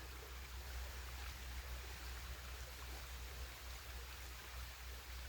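A creek flows beside sacred trees in a grove, making a soft, constant rushing wash that stays faint and unbroken.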